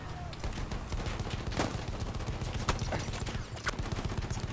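Pistol fire in a video game, irregular sharp single shots popping at close range over busy background noise, with a faint voice now and then.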